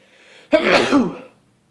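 A single sharp sneeze, close and loud, with a short breathy tail before it falls silent.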